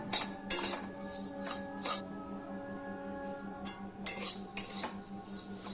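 Vermicelli (semai) for zarda being fried over a low gas flame and stirred now and then in a pan, heard as quiet, intermittent scraping and clinking strokes of a spoon against metal over a faint background hum.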